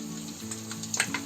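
Mustard seeds and cumin crackling in hot oil in a kadhai for a brinjal bhaji, a soft steady sizzle broken by a few sharper pops near the end, with no talking.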